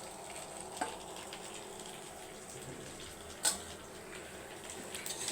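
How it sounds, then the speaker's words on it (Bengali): Chicken pieces frying with already-fried rice for chicken biryani in a pot, a quiet, steady sizzling hiss broken by a couple of sharp utensil clinks. "বন্ধুরা চাউল ভেজে নেওয়ার পরে মাংসগুলো আমি দিয়ে দিলাম"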